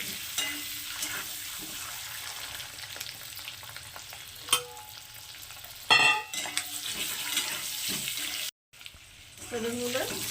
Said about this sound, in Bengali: ডিমগুলোকে আমি হালকা ভেজে নেবো খুব বেশি ভাজবো না হালকা ভাজবো